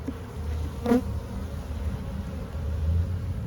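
Honey bees from a very weak hive buzz steadily close by during an inspection, a low continuous hum with one bee zipping loudly past near the microphone.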